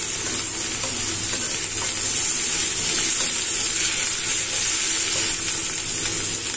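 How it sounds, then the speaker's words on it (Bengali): Onion fries with turmeric, cumin and salt in a pan, producing a close, loud, unbroken sizzle with soft stirring beneath it. "দিয়ে পেঁয়াজের সঙ্গে মশলাটাকে একটু কষিয়ে নিতে হবে।"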